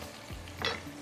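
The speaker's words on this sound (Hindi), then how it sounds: "अब हम इसको अच्छे से ब्राउन करेंगे। ठीक है, प्याज को अच्छा सा कलर देंगे" Onions browning in a pot with garam masala, salt, yellow food colour and a chicken cube for oven chicken rice, giving a brief close sizzle with a soft stirring scrape partway through.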